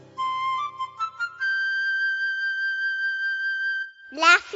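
Flute playing a few short notes and then one long sustained tone, clear and close; a voice speaks briefly at the end.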